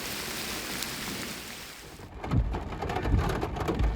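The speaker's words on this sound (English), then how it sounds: "That's hail." Hail pelts down hard in a thunderstorm during an outdoor turkey hunt on public land in Kentucky, a dense rattling wash that suddenly grows louder and heavier, with deep thunder rumbling underneath.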